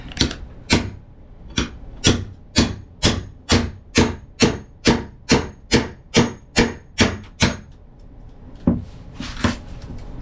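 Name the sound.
chiseling up ceramic tile floor in a motorhome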